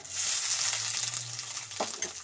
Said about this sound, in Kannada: ಹಾಕಿ ಒಂದ್ಸಲ ಫ್ರೈ ಮಾಡಿ ಈರುಳ್ಳಿ ಈರುಳ್ಳಿ ಎಲ್ಲ ಕಲರ್ ಚೇಂಜ್ ಆಗಲಿ